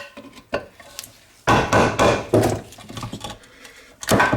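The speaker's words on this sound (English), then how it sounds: "it does require a hammer" Close, sharp knocks and scraping thuds of a hammer prying old rubber grommets out of a Honda Civic valve cover, irregular strikes with short pauses between, loud and up close.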